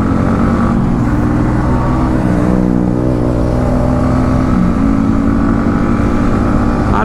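Motorcycle ridden along a village road near Narail on a winter morning, its engine a loud, close, continuous hum that shifts pitch slightly as the rider changes speed, heard without any talk.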